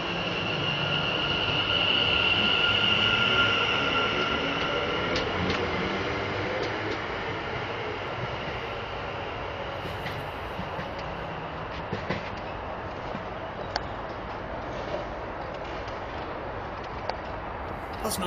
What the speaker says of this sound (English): departing out 5 minutes late with 2 Whiskey 2-4 on the 11:43 West Midlands Railway service from Walsall